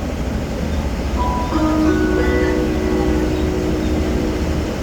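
A train at Ban Pong railway station in Thailand, with a steady rumble and a few long drawn tonal squeals or hums rising over the noise for several seconds, close and continuous, with no talk.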